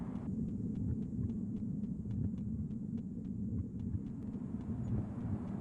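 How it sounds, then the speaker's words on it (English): A steady low throbbing heartbeat pulses inside a first-person Roblox ARG game, a dense rumbling hum filling the background with faint regular ticks above it, continuous and moderately quiet. "you hear the heartbeat"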